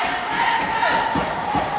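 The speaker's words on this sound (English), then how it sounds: "The Let's Go Lions cheer start rising from the stands." Crowd noise swells from the stands at an ice hockey game, with voices rising into a chant. Fans are heard at a distance, steady and continuous over the arena's hum.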